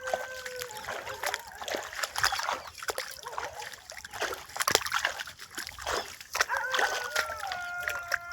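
Irrigation water flows into a farm field near castor plants, splashing and trickling unevenly close by, with faint talk in the background.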